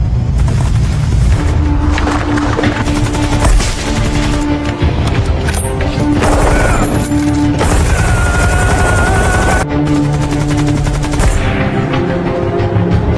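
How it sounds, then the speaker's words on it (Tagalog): Machine gun fire with bullets being sprayed, dense loud rapid bursts of gunfire and booms running almost continuously amid chaotic battle noise, without speech. "Morons just spraying bullets."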